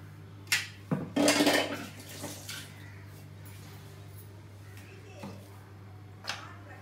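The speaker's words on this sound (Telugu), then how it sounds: "జార్ కడిగేసుకుందాం" Washing a blender jar that still holds paste from making sambar: a few sharp clanks and a short splashy burst of rinsing early on, then only scattered faint knocks over a low steady hum.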